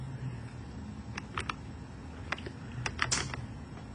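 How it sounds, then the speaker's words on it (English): A function being keyed into a graphing calculator, light clicky button presses arriving in short irregular bursts, close and fairly quiet over a faint steady hum. "I'm going to press the Tab button, and I'm going to type in the first one"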